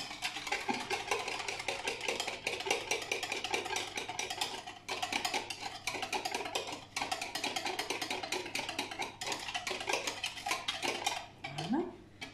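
Spoon stirring sugar into melted butter for a peach cake batter, steady scraping and clinking against a bowl throughout, close and continuous with a low hum underneath.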